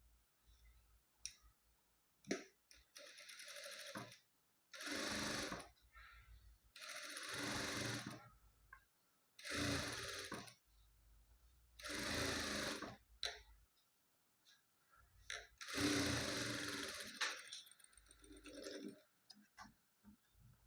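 A sewing machine stitches along both sides of blouse fabric in repeated bursts of whirring, each run lasting one to two seconds, separated by short pauses with faint clicks and handling noises.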